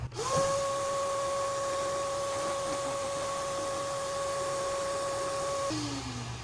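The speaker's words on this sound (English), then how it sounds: "we're going to vacuum up all the dirt" A vacuum cleaner runs steadily, sucking up dirt around the spark plug holes on the V6 engine of a Lexus ES 350 during a plug replacement. It gives one continuous whine that starts sharply and holds nearly unchanged, with no talk over it.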